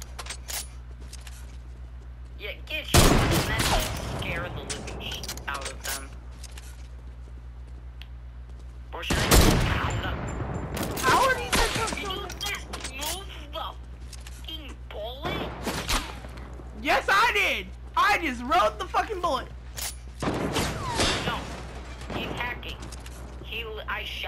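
Fortnite gunfire comes as several loud bursts of rapid shots separated by quieter gaps, with a voice talking between and over some of the volleys.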